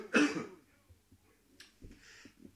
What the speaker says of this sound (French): J'ai une toux là.